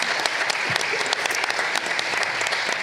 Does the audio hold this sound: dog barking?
no